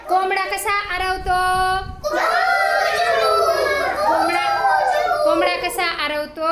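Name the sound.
children imitating a rooster crowing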